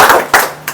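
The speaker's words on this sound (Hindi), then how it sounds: "एक बार उनके लिए तालियां बजाना जिसने यहां पे ये मौका दिखाने के लिए आपको बुलाया" Seminar audience in Bilaspur, Himachal Pradesh gives a brief burst of clapping in three short swells, fairly loud and close, with no talk over it.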